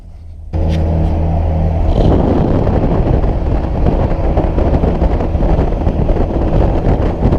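A Nissan 240 car approaching and passing, a loud continuous engine rumble rising in after a moment of quiet, with a low droning hum at the start and wind buffeting on the microphone.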